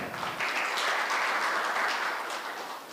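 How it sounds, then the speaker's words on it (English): An audience at the launch of a justice annual report in Kenya claps together, a steady, fairly close round of applause lasting the whole moment. "So they deserve a clap."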